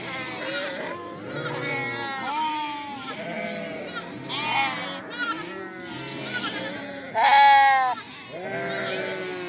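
Sheep bleat repeatedly throughout, several animals calling close by with overlapping wavering cries, one loud bleat near the end, someone speaking over them, on a snowy May day.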